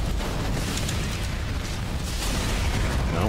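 Missile blasts in the video game Black Mesa roll out as a continuous, loud, rumbling barrage of explosions with no talking.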